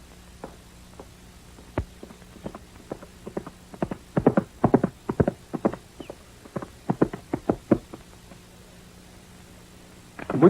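A horse walking with its hooves clip-clopping in irregular clusters of hollow knocks, moderately close and fairly faint, with no talk over it.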